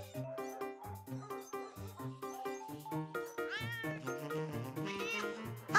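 A cartoon cat meows repeatedly in a soft, drawn-out way over a bouncy, tuneful music track, with no talking.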